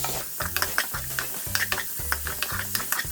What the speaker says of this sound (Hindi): और 1 प्याज कटी हुई। इसको अच्छी तरह से भूनेंगे।